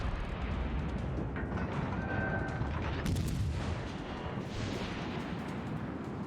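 Naval guns on the USS Pensacola heavy cruiser fire in a video game, making a dense, loud, continuous roar of booming salvos with a bright crack partway through and rumbling decay afterward.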